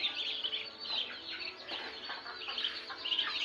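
Faint, steady chatter of poultry, soft clucks and chirpy calls from a group of birds, a bit distant with constant background noise.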